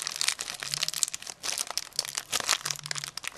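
Plastic Gashapon capsule holding a Gouf toy being pried and twisted open by hand, giving a run of close crinkly crackles and clicks with brief pauses, no talking.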